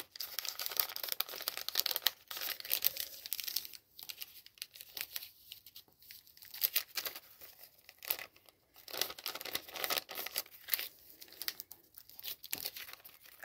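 Paper envelope flaps are folded and creased by hand, giving close, quiet crinkling and rustling in irregular bursts with short pauses between them.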